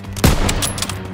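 Gunfire in a Call of Duty WW2 campaign battle: one sharp, loud shot cracks out, followed by a rattling burst of more shots that trails off into the surrounding battle noise.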